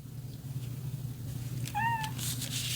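A house cat meows once, a short clear call close by, heard over a steady low hum in a quiet room.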